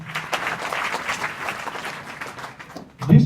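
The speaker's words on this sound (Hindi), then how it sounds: "ताली बजाओ इनके लिए" A group of students at a girls' higher secondary school claps steadily for a classmate, a dense patter of applause fading toward the end, followed by a brief loud thump.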